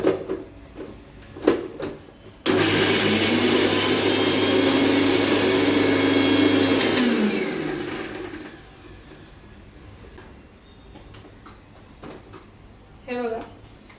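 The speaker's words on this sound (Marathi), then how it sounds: "हे छान मिक्सरला वाटून घ्यायचं." An electric kitchen mixer grinds green chillies, plenty of garlic and cumin into a paste: a loud, steady whirring roar starts abruptly, runs for about five seconds, then winds down, with light clatter before and after.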